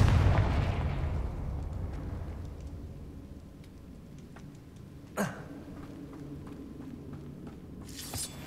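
A Hogwarts Legacy Confringo spell blast bursts with a deep booming roar that decays gradually, followed later by a single sharp crack and a faint whoosh against low background rumble.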